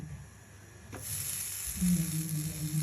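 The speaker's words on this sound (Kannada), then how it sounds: "ಪಪ್ಪು ಹಾಕ್ತಾ ಇದ್ದೀನಿ ಇದನ್ನು ಸ್ವಲ್ಪ ಬೆಚ್ಚಗೆ ಮಾಡ್ಕೊಳ್ಳೋಣ" Lentils roast in a warm pan with curry leaves for a garlic chutney, producing a soft, continuous sizzle and hiss, with a light scrape partway through and a low hum rising toward the end.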